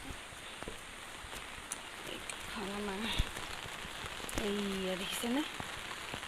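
Rain falling steadily, a dense close patter on surfaces and an umbrella, continuous and moderately quiet, with a person speaking briefly over it.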